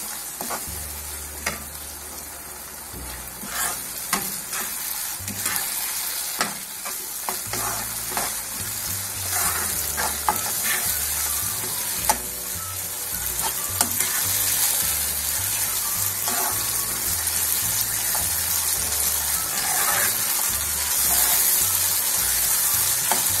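Boiled chickpeas fry with roasted spices in a pan for chana pulao, giving a steady close sizzle broken by repeated scraping stirs, with no voices.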